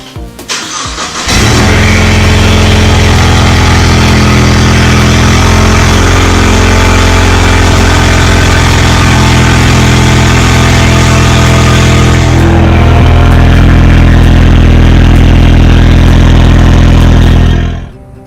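A Ford Mustang EcoBoost with its muffler deleted fires up from a cold start, then settles into a very loud, close, raw idle that holds steady for about sixteen seconds before cutting off abruptly.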